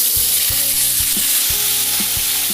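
Spice masala for misal pav fries in a pan over medium heat, a loud, dense close-up sizzle with a rhythmic series of soft knocks from a spoon stirring the mixture.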